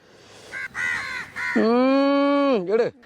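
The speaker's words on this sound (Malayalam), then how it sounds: "മണം കെട്ട് കാക്കളൊക്കെ വന്ന് കൂടിയ കേട്ടാ" Crows gather outdoors near cooking, giving loud close caws, a few short calls followed by one long drawn-out harsh caw, standing alone without talk.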